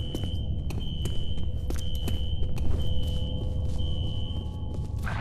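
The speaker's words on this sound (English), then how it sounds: "A fire alarm. It was triggered at a security office on that floor." A steady electronic fire alarm tone repeats in pulses over low ambient rumble and scattered clicks in the video game F.E.A.R., triggered at an office building's security office.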